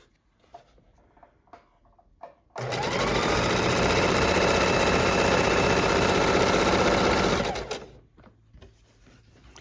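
A sewing machine stitches home decor fabric for a tote bag, starting abruptly and running steadily at full speed for about five seconds before stopping, with quiet handling sounds before and after.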